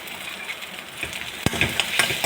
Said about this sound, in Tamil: பிறகு நன்றாக வதக்கவும்.